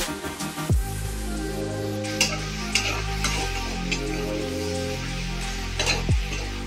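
Raw green mango chutney with cashews and raisins stirred in a pan, a steady sizzling bed broken by scraping spoon strokes against the metal, close and continuous with no talk.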